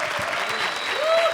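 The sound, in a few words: loud applause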